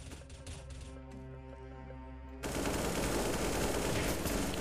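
Rapid automatic gunfire from Unturned's team deathmatch bursts in loudly after a stretch of quieter game sounds, sustaining a dense, continuous rattle to the end.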